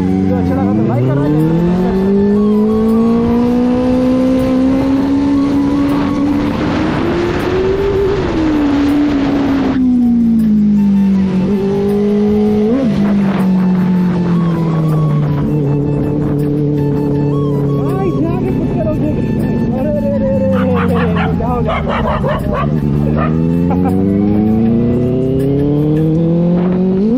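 Benelli 600i motorcycle engine revving up and down with rising and falling pitch, loud and close throughout, with people talking over it.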